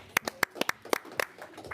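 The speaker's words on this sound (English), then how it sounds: "Round of applause for staff." Scattered, sparse hand claps from a small group at a Wellington City Council meeting, a handful of distinct sharp claps spread unevenly over under two seconds, fairly faint and close.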